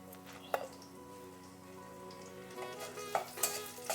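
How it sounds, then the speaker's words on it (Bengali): Bay leaf, dried chillies, whole black pepper, cumin, cinnamon and cloves fry in oil, making a soft, steady sizzle close by, broken by a few sharp pops and light clinks. "ফোড়নটা আমি ভেজে নিচ্ছি"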